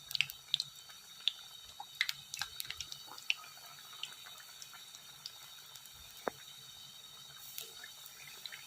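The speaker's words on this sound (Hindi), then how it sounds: "देखें ये हमारे बिस्किट फ्राई हो रहे हैं।" Semolina biscuits frying in hot oil give a faint, steady bed of soft sizzle with scattered small pops and crackles, quiet and close with no voices.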